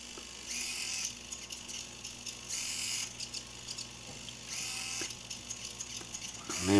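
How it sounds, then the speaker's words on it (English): An Arduino-driven servo motor sweeps its horn from 0 to 180 degrees, giving several buzzing whirs about a second long. The whirs are interrupted by jittery ticks over a faint steady hum, quiet and close. "Now we should see the servo horn go from 0 to 180."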